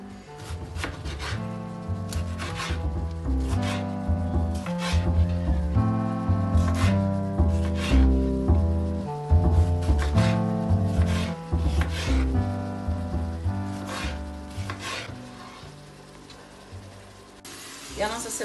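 A knife cuts seeded tomatoes crosswise on a board for homemade tomato sauce, making steady, rhythmic close-up chopping taps throughout, with music playing underneath.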